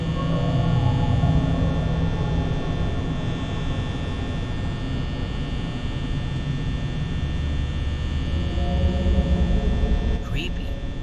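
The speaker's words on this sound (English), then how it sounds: "That loud-ass fan in your office buzzing all night long is annoying" Office fan in the Five Nights at Freddy's video game, a steady loud electric hum and buzz droning on without a break, with a faint click near the end.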